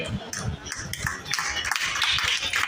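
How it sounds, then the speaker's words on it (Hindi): Applause from an audience at a school award ceremony, a steady patter of many hands clapping continuously throughout, with broadband taps and faint voices beneath. "तालियां बजती रहनी चाहिए"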